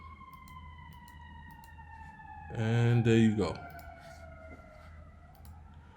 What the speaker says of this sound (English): Don't worry about the sirens in the background.